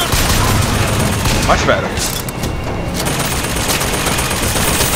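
Dense, continuous gunfire from a BioShock Infinite firefight, rapid overlapping shots and booms filling the scene at high volume, with a voice speaking briefly over it.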